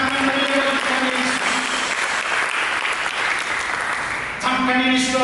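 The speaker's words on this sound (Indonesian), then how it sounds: "Mari kita berikan tepuk tangan yang mulia bagi Tuhan Yesus." A church congregation applauds for Jesus during an Indonesian sermon, sustained loud clapping that swells and holds for several seconds before a voice resumes speaking over its tail.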